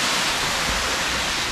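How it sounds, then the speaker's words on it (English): A strong waterfall with water pouring down into the bush, a dense continuous roar that stays close and loud for the whole moment, with no voices. "I don't know where all this water is coming from, but it's pretty strong."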